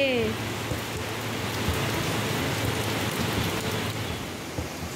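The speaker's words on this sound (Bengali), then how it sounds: "দেখো আমাদের দিকে কি বৃষ্টি হচ্ছে।" Heavy rain pours down in a steady, dense roar of drops hitting surfaces nearby, constant and unbroken from start to finish.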